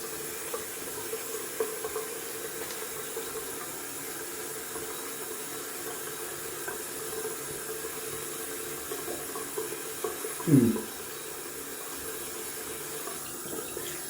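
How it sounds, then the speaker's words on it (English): Tap water runs steadily into a bathroom sink for a quick rinse during a wet shave with lemon shaving soap, a soft continuous hiss throughout with one brief louder splash near the end. "Let's have a quick rinse."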